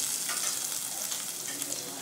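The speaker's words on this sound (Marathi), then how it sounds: "मिरची पावडर टाकते, हळद टाकते, तेलात छान परतून घ्यायचं" Chili powder and turmeric sizzle in hot oil with a steady, close, hissing fry and light stirring texture throughout, no voices.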